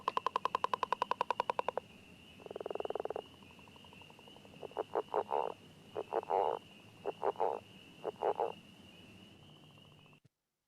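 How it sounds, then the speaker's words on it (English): Northern leopard frog calling, a rapid rattling snore-like trill followed by a series of low, separate chuckling croaks, clear and fairly close against a quiet outdoor night background. "there was a northern leopard frog calling at the beginning, and so we heard that snore followed by the chuckle"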